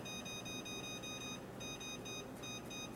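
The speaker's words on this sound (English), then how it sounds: "I'm going to set my timer on that bad boy." A kitchen timer being set gives off a rapid series of thin, high electronic beeps, soft and close, under a steady background hiss.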